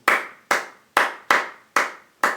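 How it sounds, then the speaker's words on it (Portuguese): Six sharp hand claps in a steady, fairly quick rhythm, each crisp and close, with short decays between, as part of a percussive guitar lesson. "Pode pensar em palmas, por exemplo."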